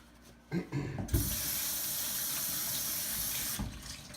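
Tap water gushes steadily into a sink while hands are washed clean of water-soluble glue after model-building work, preceded by brief clatter and handling noises, close and continuous until it stops.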